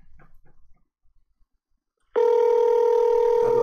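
A telephone on an outgoing call gives a loud, steady tone that starts suddenly partway through and holds to the end, after a stretch of faint, scattered sounds.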